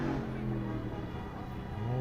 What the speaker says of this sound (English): Sounds like a Dodge engine to me.